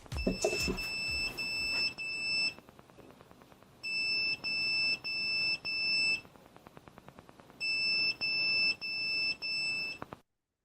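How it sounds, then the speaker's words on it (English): A seventh-grade student's homemade alarm system gives off bright electronic beeps in quick repeated pulses, arriving in three separate runs with short gaps of quiet between them, close and clear with no talking. "they wanted to create an alarm system when something comes close to that object"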